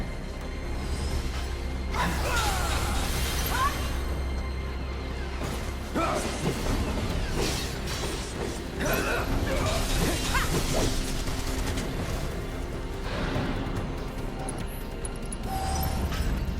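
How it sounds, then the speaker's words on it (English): Bahamut's Umbral Frenzy in FFVII Remake, a flurry of claw strikes heard as a run of sharp crashes, whooshes and thwacks that come in bursts over a continuous battle din. "Umbral Frenzy is basically a flurry of claw strikes"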